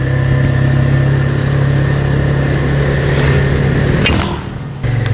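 A Benelli Motobi 152 motorcycle engine hums steadily during a test ride, a loud, close mid-pitched drone with a constant low tone, briefly dipping and shifting near the end as the revs change.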